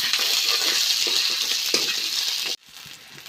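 Onions frying in a pan with roasted black soybeans (bhat), giving a dense, steady sizzle with small clinks that stops abruptly near the end, leaving a quieter, fainter crackle.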